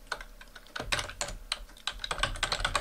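Quick bursts of keystrokes on a computer keyboard while a name is entered into an Excel sheet, irregular clicks in short clusters with brief pauses, close and clear, no speech.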